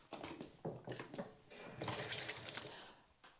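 Hands being washed under running water after handling soap nuts: splashing and trickling from a faucet in irregular bursts, with a fuller gush of water midway, nearby and fairly quiet.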